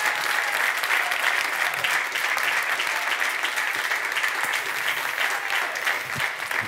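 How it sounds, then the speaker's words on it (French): A large audience applauds six finalists at the final of an eloquence tournament in Namur, dense, even clapping that stays loud and unbroken for several seconds, with no voices over it. "Mesdames, Messieurs, applaudissements pour nos 6 finalistes."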